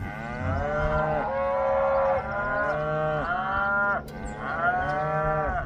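Cattle moo repeatedly and loudly in a farm pasture near a feeder, long drawn-out calls overlapping one another almost continuously with no talk.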